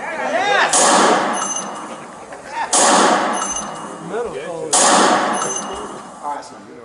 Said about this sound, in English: It's going to give some sounds that are going to sound like gunshots.